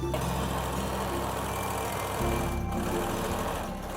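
A sewing machine stitches sundress fabric close to the edge, making a continuous, loud, even motor whirr throughout with a slight change in pitch midway.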